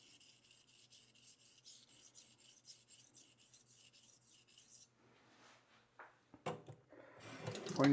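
A J. Koester's Sons straight razor is honed on a coticule stone to remove a burr. Quick, even rasping strokes repeat about a dozen times, faint and close, then give way to a few handling knocks and rustles.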